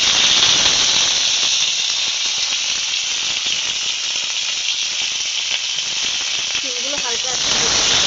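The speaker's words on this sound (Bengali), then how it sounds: "কড়ার মধ্যে দিয়ে দিচ্ছি সরিষার তেল। তেল গরম হয়ে গেছে, শিমগুলো একে একে করে দিয়ে দেব।" Flat beans frying in hot mustard oil in a wok, a loud, continuous hissing sizzle that holds steady throughout, close up, with a brief faint voice-like sound near the end.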